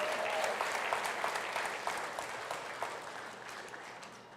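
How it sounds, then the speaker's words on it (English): Audience at a town hall meeting in St Joseph applauds steadily, a dense wash of many hands clapping at moderate distance that slowly tapers toward the end, with no talking over it. "Give yourselves a round of applause."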